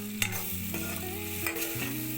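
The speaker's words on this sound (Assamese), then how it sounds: "এতিয়া বঢ়িয়াকৈ লাৰি দিছোঁ।" Chopped pumpkin stirred as it fries in a pan, with soft intermittent scraping and a quiet, steady sizzle, fairly faint and with no talking.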